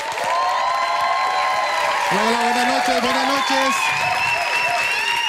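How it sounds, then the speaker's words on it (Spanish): Crowd applause and cheering greet a comedian coming on stage at a live show, a steady wash of clapping with whoops while a voice greets the audience over it. "Recibámoslo con un fuerte aplauso."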